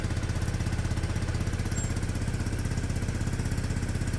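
The engine of a Peugeot Satelis scooter, an old barn find under repair, idles steadily. It gives an even, rapid pulsing putter at a constant, fairly loud level with no revving and no voices.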